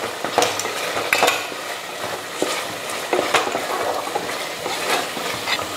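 Mango pieces, cut into large chunks, sautéing in fish curry masala in a pan, with steady frying crackle and a few louder clanks of a spoon stirring against the pan.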